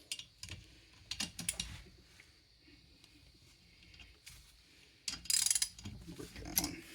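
Cylinder head bolts on a PW50 engine being spun loose, a series of light metallic ratcheting clicks and taps in irregular bursts, close up in a quiet workshop.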